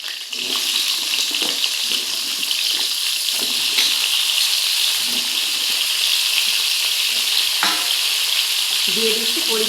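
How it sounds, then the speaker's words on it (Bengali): Potatoes frying in hot oil left over from frying pointed gourd, a steady loud sizzle that runs throughout with occasional stirring clatter, no talk. "পটল ভাজা তেলের মধ্যে দিয়ে দিচ্ছি কেটে রাখা আলুগুলো"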